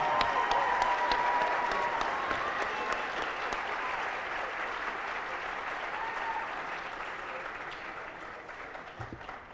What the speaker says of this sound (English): Join me in applause for their awesome effort.